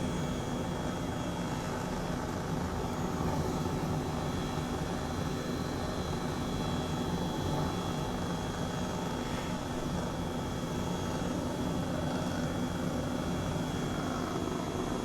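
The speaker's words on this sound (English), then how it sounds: "now that I have a helicopter" Helicopter flight in Microsoft Flight Simulator, an H135 over Sydney at sunrise, a steady, dense engine and rotor drone that holds constant throughout with no talking.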